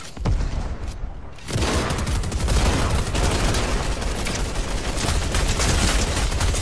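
A light machine gun firing in Fortnite: after a short burst and a brief pause, a dense, unbroken stream of rapid automatic gunfire runs loud and close for several seconds with no talking.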